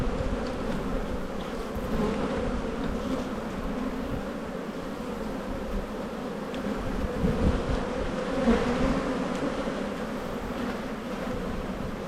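Dense, steady buzzing of many honey bees at an open hive that is crowded with brood and close to swarming, a continuous close drone lasting throughout with no talk.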